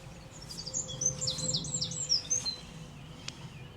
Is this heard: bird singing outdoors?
yes